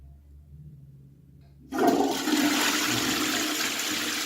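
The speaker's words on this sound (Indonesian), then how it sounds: "Kita pencet tombol ini, nanti airnya keluar apa enggak." A push-button toilet flush sets off after a quiet start, then water gushes and keeps rushing loudly and steadily, close by, with no one speaking.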